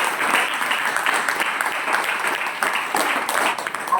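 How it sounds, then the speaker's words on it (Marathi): Loud, steady clapping from a crowd at a Buddhist training camp, dense and continuous for about four seconds with no break. "सर्वांनी जोरदार टाळ्या वाजवा।"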